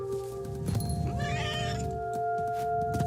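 An angry cat yowls in the video game What Remains of Edith Finch, a drawn-out caterwaul rising over steady background game music.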